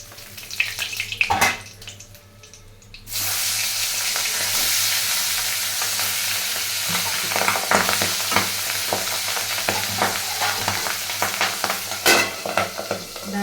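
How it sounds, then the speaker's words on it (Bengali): Fish frying in hot oil, a loud continuous crackling sizzle close by, preceded by a few seconds of clattering and handling before the frying noise settles in steadily, with no voices. "মাছের যে লাল লাল করে ভাজা হয়ে গেছে"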